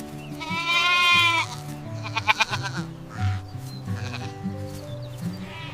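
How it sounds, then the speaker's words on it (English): A goat bleats loudly and close up, a long wavering cry followed by several shorter quavering bleats, alone without talk. "It's a goat."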